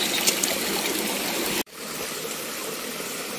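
Floodwater runs steadily through a cleared channel, a continuous broadband rushing and trickling that stays close and fairly loud, with one sharp break midway before the flow resumes evenly.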